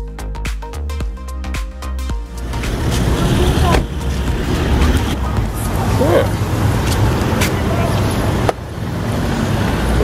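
Inside a small bus travelling on a road in Thailand toward Kanchanaburi, a constant engine and road rumble fills the cabin, with a sharp thump near the end.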